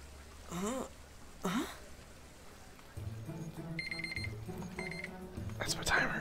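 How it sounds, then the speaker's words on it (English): Timer alarm going off beside a video game playing cutscene audio, a steady beeping alarm pattern sounding over game voices and music, fairly near. "That's my timer."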